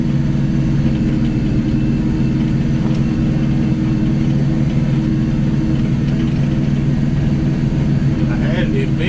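A tractor engine labouring under an 8-foot brush hog mower, a loud, steady drone that holds unbroken throughout.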